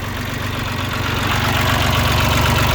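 The engine of a used 18 hp Japanese Mitsubishi mini tractor with a rotary tiller runs steadily at idle, a low, even chugging rumble that stays loud and constant throughout with no voices.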